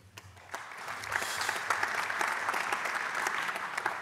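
Applause from a conference audience welcomes Prof. Dr. Detlef Zülke at a congress, building from a few scattered claps into steady, full clapping across the hall and holding at that level throughout.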